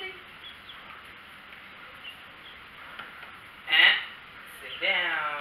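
Chickens cluck in a backyard flock while a puppy meets them, giving two short, bright calls close by near the end after a stretch of quiet background hiss.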